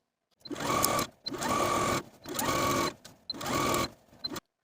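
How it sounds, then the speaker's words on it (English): Four sustained bursts of a sewing machine edge stitching a rolled hem on a tank top, running at a steady fast pace, each stitching run about a second long with brief pauses between, close and clear. "take this rolled hem to the sewing machine and edge stitch close to this upper inner fold"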